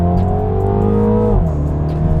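A 2022 Mini Cooper JCW Convertible engine revs with a steady, throaty drone, then the pitch drops sharply as the throttle eases off, close and loud throughout.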